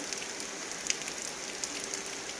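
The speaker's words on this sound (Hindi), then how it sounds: "और बारिश स्टार्ट हो गई है।" Steady rain patters on a surface at night in a Punjab village in Pakistan, a dense hiss with occasional louder drips, fairly soft and continuous.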